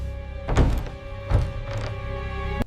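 Dull thumps of a stuck bedroom door being pushed at night, three heavy knocks spaced about a second apart, close and fairly loud with no talk.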